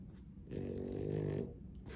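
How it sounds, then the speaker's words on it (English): A dog snoring close by, one long, loud, rasping breath in the middle with quieter breathing before and after. "She snores a lot."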